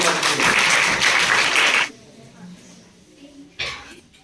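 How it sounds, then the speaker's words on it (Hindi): Students at a school science quiz break into brief, lively clapping that fills the room for under two seconds, then stops abruptly, leaving quiet with faint voices and a short burst of noise near the end. "ताली बजा दो।"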